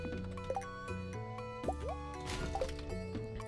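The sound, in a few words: wood falling into water in Stardew Valley video game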